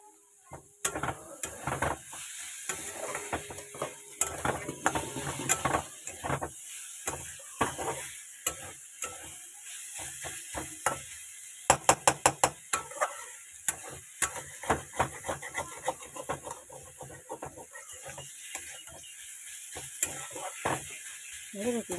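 Pumpkin fries in a pan with a continuous sizzle. Frequent scraping and clicking stir strokes cut through it, loud and close, with no talk.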